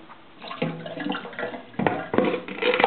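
A large salad spinner whirs and sloshes as washed lettuce and water spin in the kitchen, with rising, uneven watery churning and a couple of fresh pushes, no talking.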